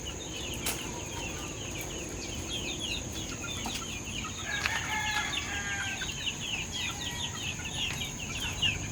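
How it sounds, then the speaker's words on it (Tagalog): Chickens and chicks clucking and peeping in the morning as they are let out, with a rooster crowing among them, a steady busy chorus of overlapping calls close by without talk. "Kapag ganyan nakaliwanag, kitang-kita na ng mga sisiw, pinapawalan ko na sila."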